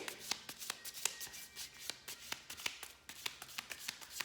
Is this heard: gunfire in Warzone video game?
no